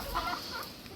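A flock of chickens clucks softly at a home in the rain, a faint, brief scatter of low clucks at some distance with no talk.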